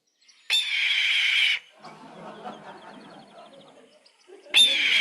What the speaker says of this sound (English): Red-tailed hawk. That's what that is, every time.